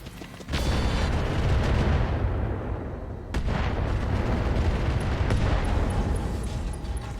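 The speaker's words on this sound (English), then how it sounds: "So I think we're just going to fire improved rounds here." Mech weapons firing improved rounds in RogueTech, a heavy booming salvo that cuts in suddenly and rumbles on, followed by a second loud blast and a sustained roar of gunfire.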